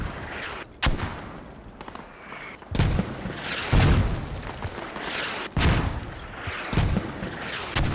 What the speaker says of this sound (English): Quick peek with the mortars over the wall.